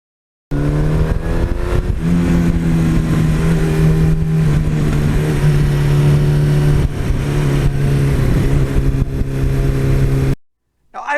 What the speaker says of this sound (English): all of these old school motorcycles, they have a certain sound, they have a certain vibration level